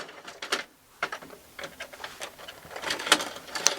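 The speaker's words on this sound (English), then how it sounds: "So I need to put this in the laser printer" A laser printer feeding and printing glossy cardstock, close by, with mechanical whirs, clunks and rolling feed noises in uneven bursts that grow busier toward the end.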